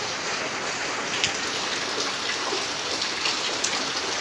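Heavy typhoon rain pours down in a dense, unbroken roar with occasional nearby splashes and runoff, loud and steady for the whole stretch with no talking.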